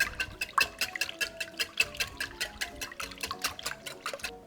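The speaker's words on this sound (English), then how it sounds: "Now we're gonna whisk that up nice." French toast batter with nutmeg is whisked in a bowl, a quick, regular run of wet clinking and sloshing strokes, close and steady throughout.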